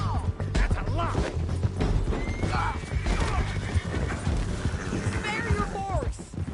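Horse hooves clip-clop in a steady, busy patter during a Red Dead Redemption 2 video game scene, mixed with whinnies and scattered clattering under voices and dense background game sound.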